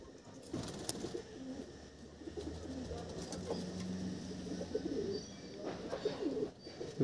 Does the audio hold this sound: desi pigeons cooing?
yes